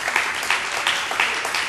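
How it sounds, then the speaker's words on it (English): Brief round of applause from an audience at a meeting, steady dense clapping with a few louder swells, no voices over it. "Can we give her a round of applause?"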